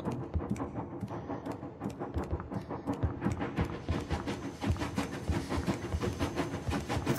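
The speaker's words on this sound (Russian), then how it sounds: "Какой-то поезд или что?" A train runs in a horror video game, a dense, steady rhythmic clatter of wheels with hissing, continuous and moderately loud throughout, with no voices.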